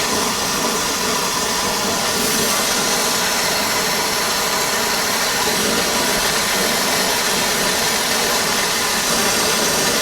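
A rosebud torch heating an early Ford Model A steering arm gives a loud, steady roaring hiss that carries on without a break.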